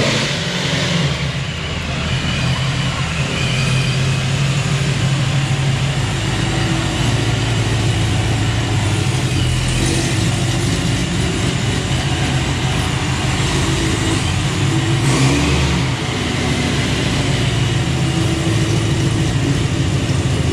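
A ProCharged Corvette engine rumbles steadily and loudly throughout, a continuous low, dense drone with broadband roar as the car drives into a shop, with no speech over it.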